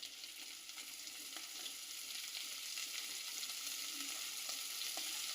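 Vegetables sizzle steadily in hot oil with cumin seeds for a Gujarati moong pulao, a dense continuous frying crackle with a few small pops, close and alone without talk.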